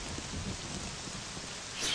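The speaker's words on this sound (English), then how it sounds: "I'm dragging this slave through the rain" Steady rain falls in the video game The Elder Scrolls III: Morrowind, a continuous, dense hiss of drops that stays even throughout with no voices.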